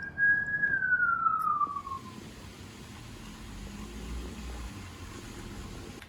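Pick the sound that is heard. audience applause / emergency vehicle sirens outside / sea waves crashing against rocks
emergency vehicle sirens outside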